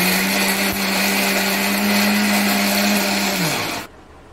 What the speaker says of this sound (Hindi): अब हम इसे मिक्सर में पीस लेंगे।